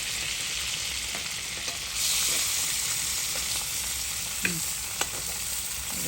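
Filet mignon sizzles loudly in a skillet while its juices are spooned over it, a dense constant hiss that swells midway, with a couple of sharp metallic taps from the spoon.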